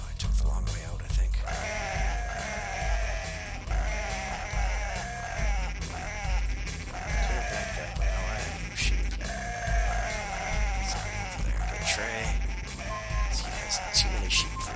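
Sheep bleat repeatedly in the Cool Herders game on Dreamcast, mixed into a loud, dense bed of game music and effects throughout, with a voice talking over it.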